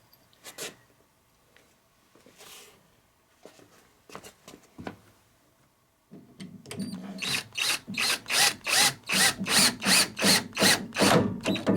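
An electric screwdriver drives exterior screws into a loose door hinge, with a few scattered clicks and handling sounds first, then a steady series of about a dozen rhythmic ratcheting bursts up close.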